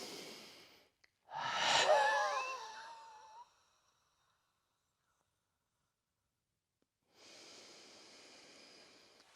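Forceful breath during a tibial nerve glide exercise, a loud rushing inhale-exhale burst near the start, then silence, followed by softer steady breathing toward the end.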